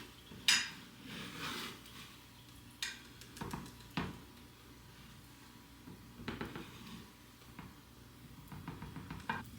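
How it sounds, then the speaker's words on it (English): An offset spatula scrapes and taps against a greased metal baking pan while spreading a thick mixture, giving scattered soft clinks and scrapes at close range with quiet pauses between them. "Grab myself an offset spatula so I can smooth this into the pan here"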